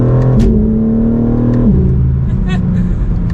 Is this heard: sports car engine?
yes